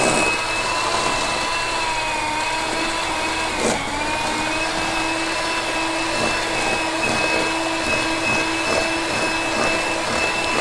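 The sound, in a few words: electric mixer mixing ingredients with sugar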